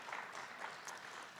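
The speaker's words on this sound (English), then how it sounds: "let's give another round of applause for all of our presenters" Faint, steady applause from an audience at a 10th grade parent night in a school setting, a soft continuous patter of many hands thanking the presenters, fairly distant and even throughout.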